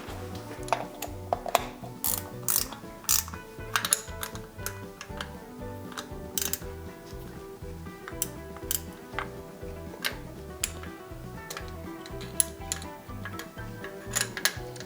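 A ratchet wrench clicks through repeated strokes, giving a steady run of close mechanical ticks and ratcheting chatter, moderately quiet, with no talking.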